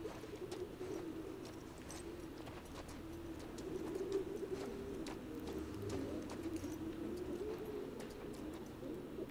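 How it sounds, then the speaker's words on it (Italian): Pigeons coo steadily in the background of a pigeon loft in The Last of Us Part II, a soft continuous murmur of low calls with faint scattered chirps and no talk. "Sono piccioni quelli che si sentono in sottofondo."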